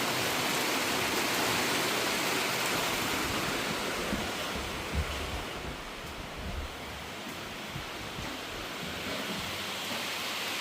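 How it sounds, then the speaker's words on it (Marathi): Heavy rain pours down on a village house in Kotluk, Guhagar in the Konkan, making a dense, steady roar that dips slightly midway and then holds, with no voices. "आता आवाज येतोय पावसाचा"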